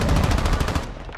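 Rapid automatic gunfire in Warzone 2.0, a loud dense burst of close shots for about a second that then trails off.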